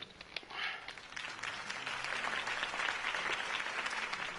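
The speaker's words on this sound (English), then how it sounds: "If only Mr. Wayne, my campaign's largest backer, could have heard that applause" A large crowd in the video game Batman: The Telltale Series claps and cheers in steady, sustained applause, fairly distant and soft.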